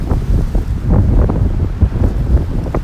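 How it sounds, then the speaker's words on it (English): Strong wind buffets the microphone along the Narrows waterfront in Bay Ridge, Brooklyn, a steady loud rumbling roar with gusts, with a ferry and water nearby. "You can tell how windy it is."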